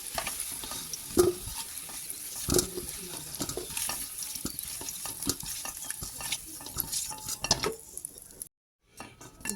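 Partly cooked potatoes are lifted from a pan of jackfruit and egg curry, with spatula scrapes and knocks against the metal pan over a soft sizzle, ending in a short silence before clattering resumes.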